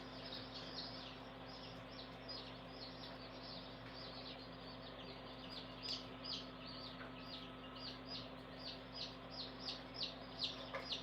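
Baby chicks and chickens cluck in a series of short, repeated calls over a steady low hum, growing a little louder and more frequent toward the end.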